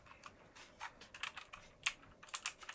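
Clicky keystrokes on a Philco keyboard used with an iMac, tapped in quick uneven bursts, close up and fairly quiet with no voices.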